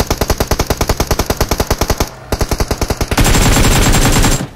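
Rapid automatic gunfire from the video game PUBG Mobile, loud and close, repeats in steady evenly spaced shots, pauses briefly, resumes, then gives way to a dense sustained roar of firing.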